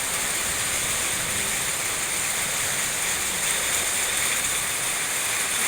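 Rain falls steadily in a continuous, fairly loud wash of hiss, even and unbroken throughout, with no voices.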